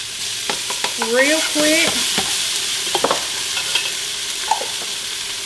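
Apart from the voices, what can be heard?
stirring vegetable beef soup ingredients in a pot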